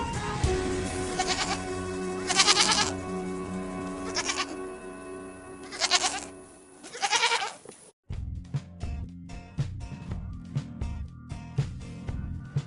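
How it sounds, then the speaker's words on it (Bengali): A goat bleats in several drawn-out, wavering cries, fairly close and loud, followed by a rhythmic musical passage. "ছয়ে ছাগল ছানা লাফিয়ে চলে"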